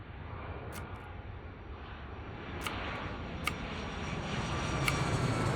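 An airplane flies overhead, a faint, distant low rumble that builds slowly over several seconds, with a few soft clicks nearby and no talking.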